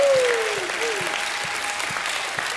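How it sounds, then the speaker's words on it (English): A church congregation at a Sunday morning service claps and calls out praise together, a steady wash of applause with a voice sliding over the start. "give him a hand clap and a shout of praise"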